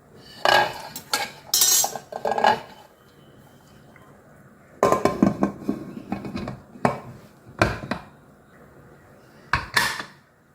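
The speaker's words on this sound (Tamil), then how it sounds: "குக்கர் மூடி போட்டு வெயிட் போட்டுறேன்" A pressure cooker lid being fitted and its weight set on top in a home kitchen, a series of close metallic clanks and clinks in short bursts separated by quiet pauses.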